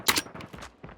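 Gunfire in the mobile shooter game Call of Duty Mobile: a sharp burst of shots up front, then scattered quieter reports trailing off over a second.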